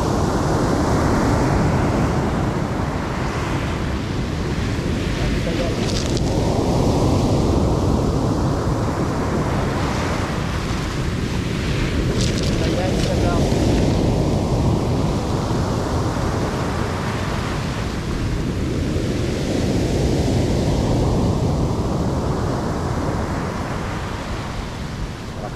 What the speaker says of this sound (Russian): Кажется, идет волна.